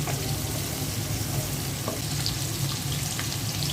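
Onions and shrimp fry in a pan, a dense and continuous close sizzle with faint scraping, and no voices.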